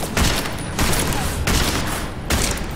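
Heavy gunfire from the video game Deus Ex: Mankind Divided rips out in loud, sustained bursts, with several dense volleys separated by brief dips.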